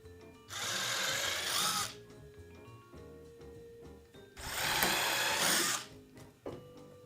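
A power drill drives screws into the tabletop of a flip tool stand in two loud, sustained bursts, the second cut off sharply, with quiet handling noise between them.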